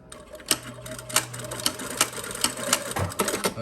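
A sewing machine stitches an elastic band into a circle, giving a close run of sharp, regular mechanical ticks and clatters with brief pauses between bursts.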